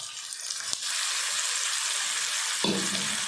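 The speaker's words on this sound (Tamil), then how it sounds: "புளிச்சக்கீரையை சேர்த்துட்டு நல்லா கலந்து விட்டு எண்ணெய் பிரிஞ்சு வர வரைக்கும் நல்லா வதக்கிடலாம்" Gongura (sorrel) leaves sautéing in hot oil in a pan with garlic and dried chillies, a steady loud sizzle with a brief stirring scrape, close up and without voices.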